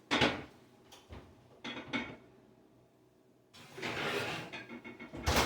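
A lidded pot of spare ribs with bacon slides into a 250-degree home oven, giving clanking metal bumps and rack scrapes, with a creaking oven door and a quiet pause between the louder knocks.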